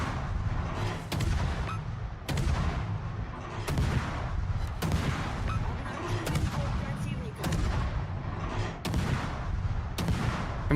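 Heavy warship main guns firing in World of Warships, roughly seven loud booming salvos spaced a second or two apart, each with a sharp crack and rolling decay, while a voice talks over the barrage.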